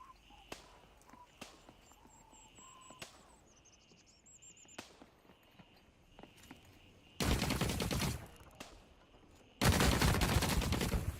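Video game gunfire: scattered sharp single shots and clicks over quiet ambience, then two long, loud bursts of rapid automatic fire near the end.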